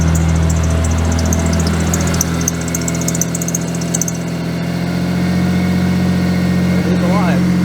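A Nissan R32 Skyline engine runs at a steady, loud high idle close by, a continuous drone with a brief rise near the end, as people talk over it.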